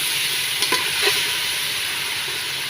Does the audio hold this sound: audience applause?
no